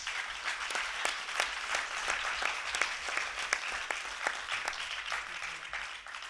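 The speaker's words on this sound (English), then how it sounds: "I want to clap not just the boys who are here, but the whole team who got them here" A debating finals audience applauds a school debate team, steady many-handed clapping at a moderate distance that continues evenly throughout with no voices over it.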